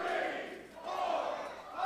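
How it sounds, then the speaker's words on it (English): A wrestling crowd roars after a tombstone piledriver in a match, a loud sustained mass of shouting that dips briefly and then swells again. "And you can hear the crowd."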